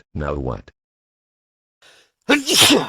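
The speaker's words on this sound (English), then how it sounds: "did you just sneeze on my face?" A single sharp sneeze bursts out at the end, closely preceded by a brief spoken question and a faint breathy intake.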